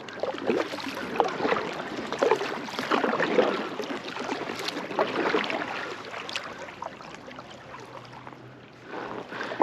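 Kayak paddling on Banks Lake in a desert state park, with irregular splashes and drips of paddle strokes in the water, fairly close and moderate in loudness over a soft wash of wind and lapping water, no talk.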